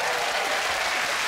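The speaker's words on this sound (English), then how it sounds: "This is not a genuine clapping." A television studio audience applauds with dense, steady clapping throughout a short burst, loud and close, with no voices over it.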